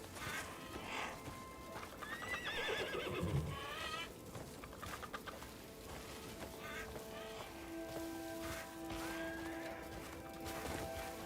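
A horse whinnies in the Crimson Desert video game, with hoofbeats and ambient game sound around it, followed by softer background tones and music.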